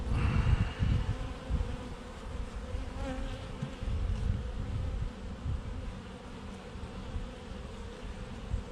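A dense, steady insect buzz from many bees around an open hive during an inspection, close by and continuous, with occasional louder passes.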